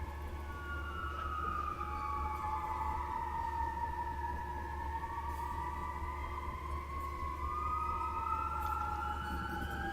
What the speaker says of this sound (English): This is just really bad sirens.